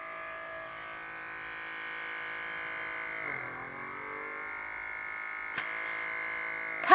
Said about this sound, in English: It's got a pulling suction to it, and as you can see, it's making my nose